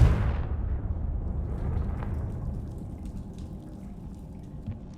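A Confringo blasting curse explosion in Hogwarts Legacy: a loud blast right at the start that decays into a rumbling, fading tail with scattered faint crackles.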